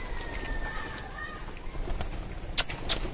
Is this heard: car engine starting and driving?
no